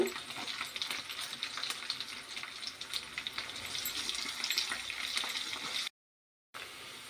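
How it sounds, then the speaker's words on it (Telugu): Soaked sabudana (sago pearls) tempering in hot oil for upma crackles and hisses continuously up close, with occasional stirring scrapes, before a brief cut to silence and a return of the frying. "సాబ్దానాలు పోపు అయిందండి."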